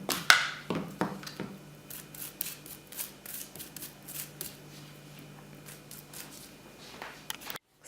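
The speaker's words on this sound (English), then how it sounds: "So now we take the plastic and we just cover the exposed soil" Plastic sheet coated in petroleum jelly handled and pressed over the exposed soil of a houseplant pot, giving faint crinkling and tapping rustles in irregular bursts, close by, with no talk.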